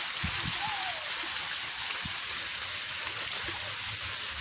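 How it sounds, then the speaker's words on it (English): Steady rain pours down during a windy storm, a dense, continuous hiss with a few faint splashes and knocks. "they stopped working because it's raining"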